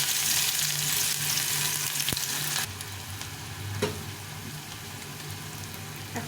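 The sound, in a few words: chopped onion and dried chili frying in oil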